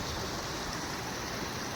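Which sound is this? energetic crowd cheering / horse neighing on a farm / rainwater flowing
rainwater flowing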